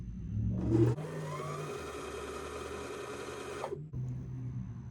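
A Janome Hello Kitty sewing machine winds thread onto a bobbin with a steady, close mechanical whir lasting about three seconds, starting and stopping abruptly amid quiet room noise.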